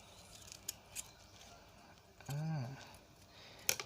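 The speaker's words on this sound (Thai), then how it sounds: "ถ้าเพื่อความสวยงามก็ใช้กรรไกรตัดก็ได้นะคะ" Scissors snip while someone assembles a sandalwood flower bouquet, giving a few faint, sharp clicks spread across a quiet room, with a brief voiced sound in the middle.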